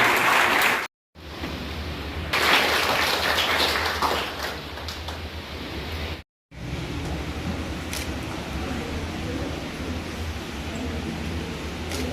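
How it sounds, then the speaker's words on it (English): An audience at a school investiture ceremony applauds, with sustained clapping from a large crowd, heard from a distance and broken by two brief dropouts. "Please give a big round of applause."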